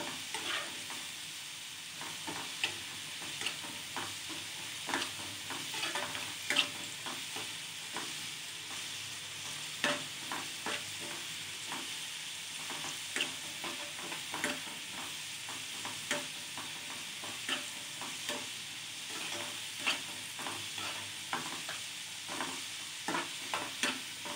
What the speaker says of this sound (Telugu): వెల్లుల్లిపాయలు కొంచెం మెత్తబడే వరకు కొంచెం వేయించుకోవాలి ఆయిల్లో.